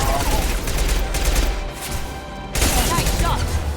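Rapid bursts of gunfire in the video game Mass Effect 2 during a prison break, loud sustained rattling with a short lull in the middle before firing resumes.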